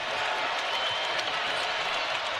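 Crowd noise in a college basketball arena during an Alabama at Tennessee game, a dense, steady roar from a large audience under a commentator's voice.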